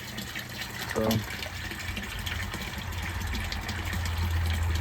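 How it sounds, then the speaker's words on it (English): Water draining from an aquaponics grow bed into a catfish tank makes a steady, close splashing gush that continues throughout, with a brief spoken word near the start. "That's draining out from the bed that I showed you guys."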